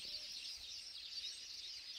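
Birds chirping near their nest in a village, a faint, continuous high twittering that carries steadily through the whole short stretch with no voices over it.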